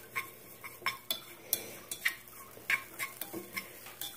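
Coconut flakes toasting in a pan, stirred with a utensil that taps and scrapes against the metal in a steady run of light clicks, close and fairly quiet, with faint sizzling underneath.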